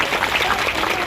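An audience at an International Women's Day meeting applauds dancers, a dense, steady wash of many hands clapping close and loud throughout the short burst.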